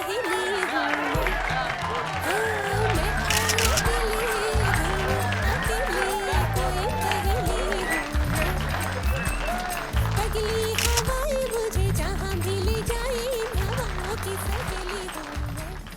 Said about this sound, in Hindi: जोरदार तालियों और शोर से स्वागत कीजिए Bollywood princess and the current sensation Guddan